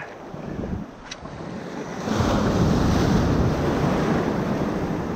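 Ocean waves roar close by, a surge building and crashing loudly partway through, with gusty wind buffeting the microphone.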